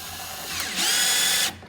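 A stainless steel bolt anchor assembly is tightened with a 3/8 bolt, giving a steady whirring tool drone that rises and grows louder for about a second, then cuts off abruptly.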